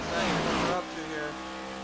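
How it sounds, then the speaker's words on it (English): Gen 7 stock car engines roar loudly at Indianapolis Motor Speedway in a racing game, a brief surging blast that drops to a lower steady drone while a commentator talks over it. "you hear the noises, you hear the roar. These Gen 7 cars know how to put up a fight"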